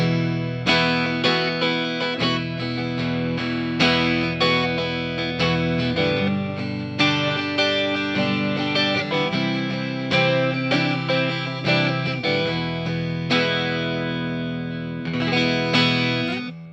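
A bright, shimmering Rickenbacker 360/12C63 semi-hollow electric twelve-string guitar plays strummed chords and ringing notes with effects and reverb, alone and up close.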